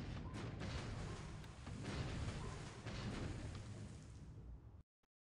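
Torpedo fire and explosions in a naval war video game set in the Pacific, a continuous loud rumbling boom with a few sharp bursts near the start, cutting off abruptly before the end.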